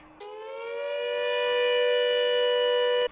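A civil defense air raid siren wails alone, its steady rising tone swelling in loudness over about three seconds before cutting off abruptly.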